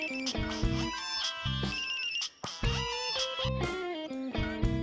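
A mobile phone ringtone plays loud and close as a bright, repeating electronic melody in a steady looping rhythm, with a brief break midway.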